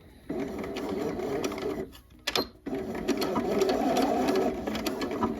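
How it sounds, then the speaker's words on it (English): A sewing machine back stitches along a dress neckband seam, a close, busy run of rapid mechanical stitching that breaks off briefly for a few clicks and then resumes steadily. "So, gonna go ahead and back stitch here."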